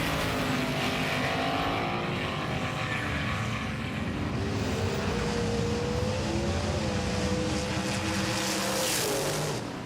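A T-Bird stock car races a fat-fendered 1940 car side by side in a Road Warriors drag race, their engines a loud continuous roar with rising and falling tones that fills the whole stretch.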